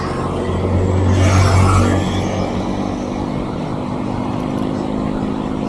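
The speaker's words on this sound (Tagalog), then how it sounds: "Daming sasakyan ngayon" Heavy road traffic near the Luisita exit in Tarlac City, with a steady roar of many passing cars and a louder engine swelling close by early on before the flow settles into a constant wash.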